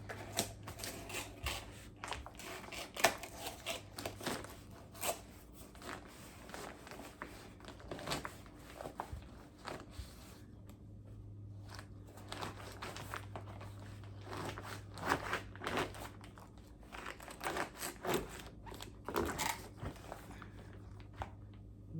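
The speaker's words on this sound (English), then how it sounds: "So I'm going to just cut it from here" A knife slices through a cluster of oyster mushrooms grown from a kit, giving quiet close crisp snaps and crunches in irregular bursts over a low steady hum.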